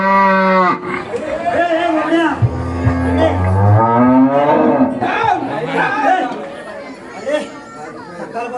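A cow moos loudly and close in several long, drawn-out calls, with people chattering around it at a village gathering.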